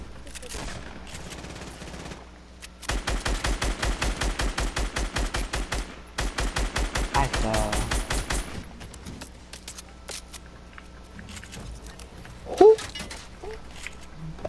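Rapid automatic gunfire in a Fortnite duo-squads match, two long sustained bursts of quick shots, followed by quieter scattered game sounds.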